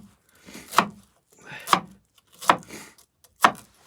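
Onion being chopped with a coarse ESEE-6 survival knife, four distinct blade strikes against a cutting board at a slow, even pace, close and clear with no talk.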